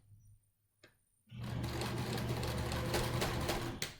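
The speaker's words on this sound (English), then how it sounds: "I'm going to back stitch." A sewing machine back stitches a fabric face mask, starting after a couple of faint clicks and then running in a steady, close, rapid whirring hum for a few seconds before stopping.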